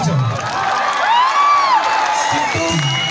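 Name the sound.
audience applause and cheering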